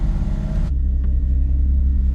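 A Lexus GS300 engine idles after start-up, a steady low rumble that drops from a louder, fuller burst to a smooth even idle, close by with no talking.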